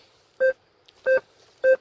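A metal detector, one of an Alter 71, IDX Pro or CTX 3030 searching light sandy forest soil, gives three short, clean electronic beeps, evenly spaced and close, with quiet between them.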